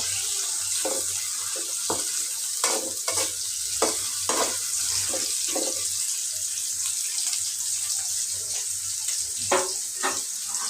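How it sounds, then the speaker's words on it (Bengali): Onions and green chilies fry in a pan for a tengra fish dish, giving a continuous close sizzle broken by repeated scraping stirs of a utensil. "তারপরে আমি পেঁয়াজ কাঁচামরিচ একটু ভেজে"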